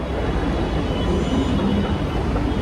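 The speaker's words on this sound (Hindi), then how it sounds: "ओ भाई मेट्रो आ गई, जल्दी मेट्रो आ गई मेरी।" A metro train arrives at a station, rumbling steadily on the rails with a continuous low roar and faint metallic hiss, close by and loud.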